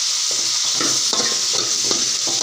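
Ginger and garlic sizzling in a pan with onions for a South Indian cauliflower curry, a constant frying hiss broken by repeated scraping stirs of a spoon roughly every half second.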